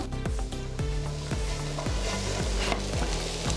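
Sliced ivy gourd being stirred into a frying chilli and turmeric masala, with a steady sizzle under repeated scraping strokes of a spoon against the pan, close and continuous.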